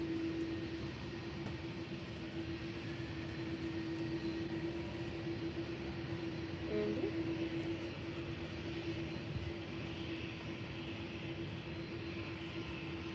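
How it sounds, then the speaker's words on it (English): A Norwegian Boeing 737 MAX at Faro Airport, heard as a steady, fairly faint engine drone with a thin sustained whine, rumbling on evenly from a distance at the airfield. "So here goes Norwegian 737 MAX"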